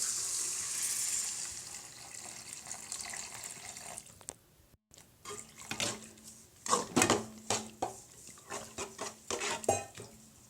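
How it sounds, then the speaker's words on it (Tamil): Water is poured into a pot of bitter gourd curry, a steady splashing stream for about four seconds, followed by close clattering stirring and scraping in the pot with no talking. "தண்ணி ஊற்றிடலாம்"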